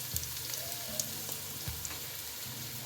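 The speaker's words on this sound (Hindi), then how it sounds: "प्याज ब्राउन करने के लिए पतीली में डाल रहे हैं।" Onions fry in hot oil in a cooking pot for a beef pasanda korma, giving a steady, even sizzle with light crackles and an occasional soft clunk of stirring.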